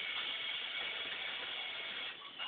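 A ratchet wrench clicks rapidly and steadily at close range while removing the old motor from a Crown Victoria, a continuous buzzing run of pawl clicks that eases slightly at the very end.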